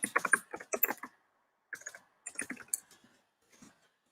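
Typing on a computer keyboard, close by in a quiet room, comes in short bursts of rapid clicks separated by pauses.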